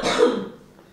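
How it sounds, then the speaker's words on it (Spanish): A single harsh cough from a woman who is sick, close to the microphone, loud at first and then fading away within a second. "Tenés una tos de terror."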